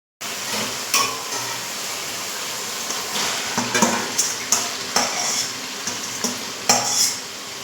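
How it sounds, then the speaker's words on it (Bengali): Chicken chap mixture frying in oil in a pan, giving a steady sizzle under repeated scrapes and clinks of a spatula stirring against metal, close and fairly loud, with no talking. "একটু মিক্সচারে দেখো সাইড দিয়ে তেল ভাজতে শুরু করেছে"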